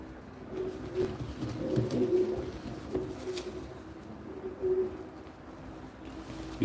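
Domestic pigeons coo in repeated low, soft, throaty calls close by, overlapping in a loose rhythm over a quiet background, with no talking.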